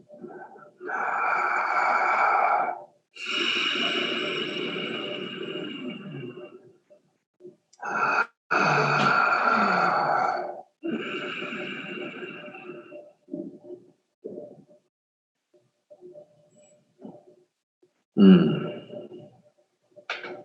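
A person takes slow, deliberate breaths, drawing air in through the mouth and letting it out through the nose with abdominal breathing. Long, breathy inhale and exhale bursts are heard close up, separated by pauses, with softer breaths trailing off.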